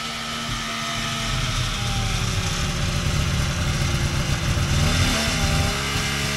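A vintage Polaris XLT 600 triple snowmobile engine runs during a lap, a steady mid-pitched two-stroke drone that rises and holds with shifting revs, loud and continuous.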